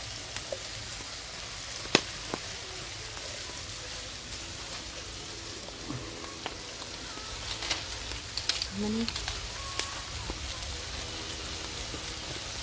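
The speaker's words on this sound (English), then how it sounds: "I'm also going to put my onions in here to start fry up" Onions and pimentos sizzle steadily in a pan over a fireside cooking setup, a soft continuous frying hiss with occasional pops and light stirring clatter.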